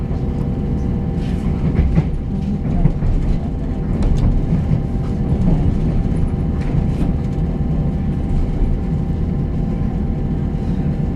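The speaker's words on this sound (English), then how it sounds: "Another train actually in the station, another Anglia Railways train." An Anglia Railways passenger train in a station fills the scene, a loud steady low rumble of railway rolling stock with occasional clanks and rattles on top.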